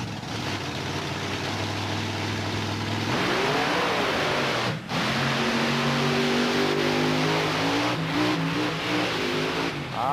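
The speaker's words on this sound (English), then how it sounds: "When he mashed it to leave the line, it pulled the front tires off the ground" A heavy monster truck engine idles at a drag staging line, then roars loudly as it launches, its revving pitch climbing steadily; no voices.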